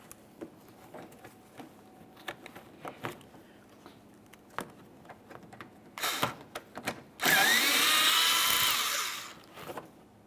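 A power tool with an 8mm socket removes the bumper mounting bolt on a 2014-2018 Mazda 3. Light clicks and handling come first, then a short whir and a loud sustained run of about two seconds, close by.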